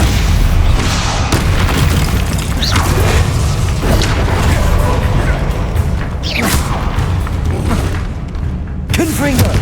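Confringo and Bombarda blasts in Hogwarts Legacy combat: a sustained stretch of loud, heavy booms and crashing impacts with mechanical clatter, close and dense, with a voice calling out under the din.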